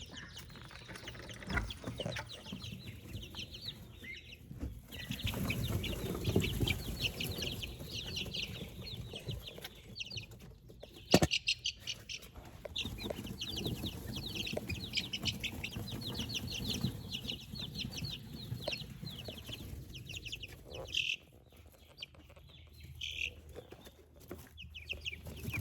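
Ducklings in a brooder under heat lamps, with continuous soft peeping and chattering from a flock close by, a faint steady hum beneath and an occasional sharp knock.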